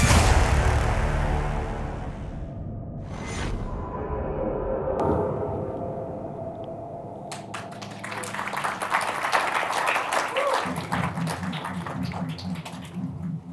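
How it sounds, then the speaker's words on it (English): After trailer sound for a Star Wars game plays at a Skywalker Sound presentation, an audience bursts into clapping that swells in the second half and continues steadily to the end. "That's easy applause."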